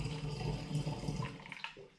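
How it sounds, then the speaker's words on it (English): Apple juice for a cider brew is poured through a funnel into a demijohn, a continuous splashing, gurgling trickle at moderate loudness that breaks into a few uneven spurts toward the end. "Right, let's pour it in."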